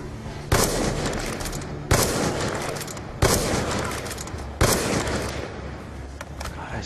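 Gunfire in the video game Black Ops 2 Zombies on the Origins map, with four heavy booming shots spaced about a second and a half apart, each leaving a long, dense rumbling tail.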